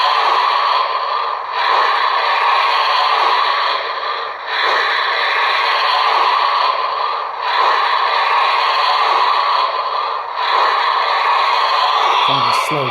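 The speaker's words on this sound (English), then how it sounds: "give it some power, which will emulate the" Slow, steady chuffing from a Maxx Traxx Small Steam 604 digital steam locomotive sound system, a regular hiss-and-puff beat repeating roughly every three seconds at moderate loudness, with a brief metallic clatter at the very end.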